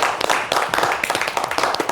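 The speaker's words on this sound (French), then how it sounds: "à qui nous rendons hommage à travers ces applaudissements" An audience claps in tribute to a late artist, a close, fairly loud burst of quick, slightly uneven clapping throughout.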